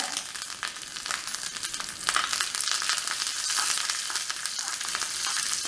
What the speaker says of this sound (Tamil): உளுந்தம்பருப்பு கடுகு கடுகு இப்போ நல்லா பொரிஞ்சிருச்சு